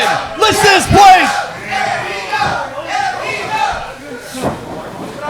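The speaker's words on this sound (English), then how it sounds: "What an electrifying crowd." A packed indoor wrestling arena crowd roars and yells in loud, surging waves of cheering, with rising shouts near the start and a commentator's voice talking over the noise.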